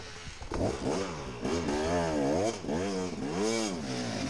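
A dirt bike engine at a hare scramble race revs hard and loud, rising and falling in repeated throttle surges over several seconds, close to the rider with no talking.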